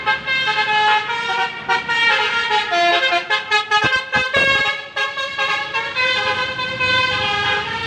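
A toy Indonesian telolet bus horn plays loud, melodic multi-tone honks in a rapid sequence of bright, stacked notes with short breaks, alone and close.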